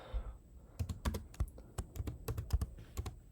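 Keys clack on a computer keyboard as a comment is typed, in irregular bursts of close, crisp taps with short pauses, no voices.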